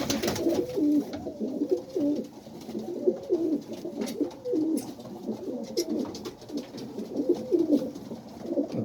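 Several pigeons kept by a pigeon fancier coo close by in a repeating, throaty rhythm, with faint clicks and rustling in the background.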